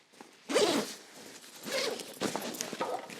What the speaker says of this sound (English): It just zips right back up, and then it's just your regular backpack.